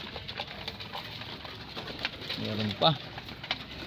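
Domestic pigeons cooing at a backyard loft in the early morning, soft repeated coos near the middle over steady background ambience, with a person talking briefly.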